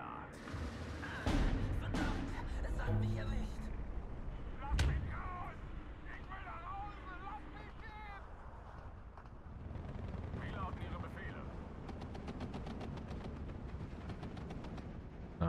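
Bombing explosions and heavy artillery in the WWII strategy game Steel Division 2, with deep booms and sharp blasts rolling through a continuous battle din while someone talks over it.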